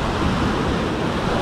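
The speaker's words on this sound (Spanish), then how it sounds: "Normalmente no es más intenso que esto el mar acá" Sea waves at the island shore near Caraguatatuba, a dense, steady wash of surf noise close by, loud and continuous with no talking.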